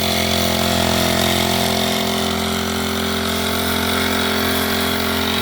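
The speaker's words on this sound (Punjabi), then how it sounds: "ਬਿਲਕੁਲ ਹੀ ਛੋਟਾ ਜਿਹਾ ਇੰਜਣ ਆ ਤੁਸੀਂ ਆ ਦੇਖ ਸਕਦੇ ਹੋ" Small engine driving a pressure sprayer pump, a loud, steady droning hum with a constant pitch, running close and unbroken throughout.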